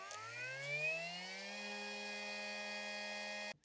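A Craftsman cordless cut-off tool spins up at no load, a rising whine settling into a steady high-pitched motor drone that runs continuously for about three seconds before abruptly cutting off.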